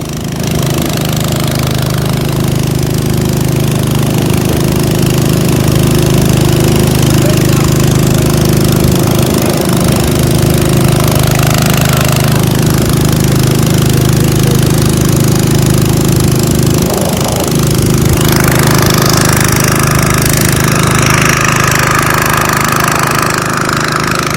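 Three pumps run together, pumping water out of a sunken boat: a loud, close, steady motor drone with a constant low hum that continues without a break for the whole stretch.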